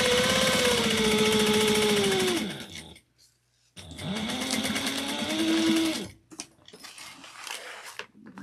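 Sewing machine back stitching to close up a pocket: two long, loud runs of rapid motor-driven stitching with rising and falling pitch, separated by a brief pause, then quieter handling noises and short bursts.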